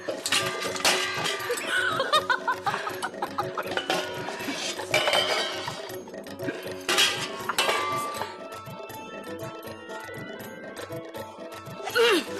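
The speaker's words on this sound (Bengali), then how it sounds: "তিন্নি, হ্যাঁ তিন্নি, ওকে হাঁড়িটা দে তো।" A metal cooking pot clinks and scrapes as it is handled, in short bursts, while several people talk and laugh nearby.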